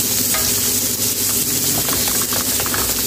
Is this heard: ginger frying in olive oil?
yes